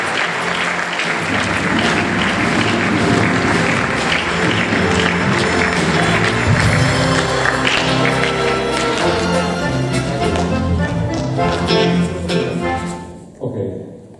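Sustained audience applause for an accordion player at a folk musicians' performance, dense steady clapping close by for about twelve seconds before tapering off quickly.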